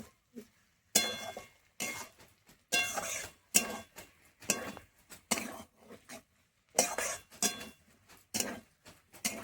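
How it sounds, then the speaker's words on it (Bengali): A spoon scrapes and clinks against a pan while ghee and garam masala are stirred into cabbage, in repeated bursts with short quiet gaps between strokes. "এবার আমি একটু মিশিয়ে নেবো 1 মিনিট মতো।"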